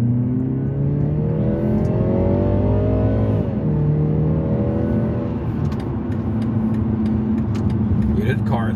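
A small four-cylinder car accelerates hard, its engine note climbing steadily through the gears, dipping at a shift and rising again, loud and close, before fading as it pulls away.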